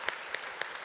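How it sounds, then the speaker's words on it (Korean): Faint, scattered clapping from a church congregation during a Korean sermon service, a few distinct soft claps spaced in a loose rhythm. "우리 박수 한번 할까요?"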